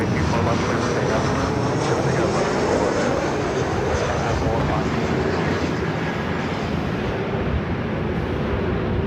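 A Lufthansa airliner takes off from a runway at LAX bound for Munich, making a loud, continuous jet engine roar that holds steady throughout.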